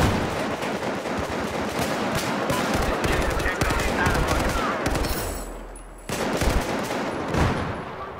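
Dense, continuous automatic gunfire in Battlefield 4, loud and close, rattling almost without pause, dropping briefly before resuming, with shouting voices over it.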